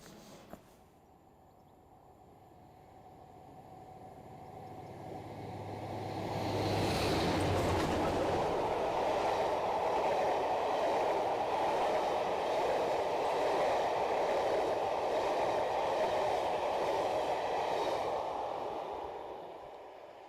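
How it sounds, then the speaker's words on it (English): Train hauling old carriages passes through Gargrave, building from a distant rumble to a loud steady roar with rhythmic wheel clatter for most of the stretch, then easing slightly toward the end, with no voices. "it's not every day you see old train carriages pass through Gargrave"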